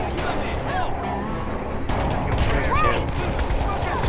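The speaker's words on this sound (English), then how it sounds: "She's shooting him." Gunfire crackles in the shooter game Call of Juarez: The Cartel, with sharp shots and bursts scattered through a dense, noisy battle din, while people talk over it.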